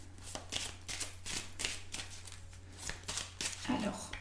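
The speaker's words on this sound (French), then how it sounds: "Je mélange encore. Comme ça, c'est bien mélangé." Tarot cards being shuffled for a daily reading, a steady run of close, soft papery riffles and slaps repeating every half second or so, with faint talking underneath.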